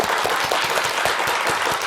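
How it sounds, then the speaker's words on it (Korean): A studio audience at a lecture on a Korean morning talk show claps together in a brief, dense burst of applause, loud and even throughout. "박수 한번 칠까요?"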